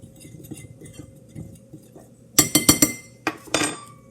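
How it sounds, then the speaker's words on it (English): A fork stirs salt into flour in a bowl for pie crust, at first a faint soft scraping, then a cluster of sharp metallic clinks and taps against the bowl, close and fairly loud, with no one speaking. "I will be stirring that mixture with the fork to fully incorporate the salt to the flour."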